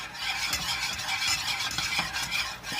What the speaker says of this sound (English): you want to get this good and stirred in